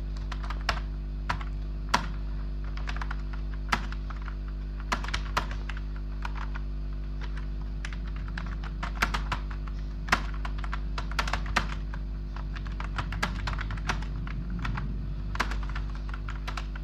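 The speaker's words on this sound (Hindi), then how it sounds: "मैं अभी आपको बताऊंगा कि हमारी टाइपिंग की स्पीड क्या है और कैसे हो रही है" Someone types fast on a computer keyboard, the keystrokes clicking in quick, uneven bursts with a few sharper taps over a steady low electrical hum.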